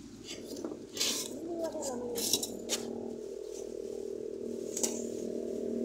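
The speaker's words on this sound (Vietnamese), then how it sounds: "Đây bây giờ mình đã đi trộn phân cho các bạn xem nhá." Granular rustling and scraping as NPK and phosphate fertilizer are mixed by hand outdoors on a farm for a bean garden, with intermittent gritty clinks and shuffles, and a voice talking over the sound throughout.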